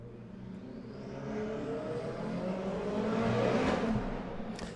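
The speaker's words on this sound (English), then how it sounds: "That's a loud car." A loud car passes outside, heard from indoors. Its engine roar swells steadily to a peak and then fades, moderately distant and muffled, with no talk over it.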